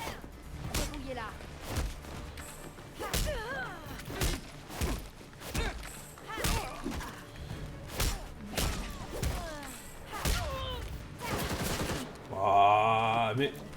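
Rapid bursts of gunfire from the Gotham Knights video game, with repeated thumping shots over a dense bed of game effects and voices, ending in a louder swell of sound.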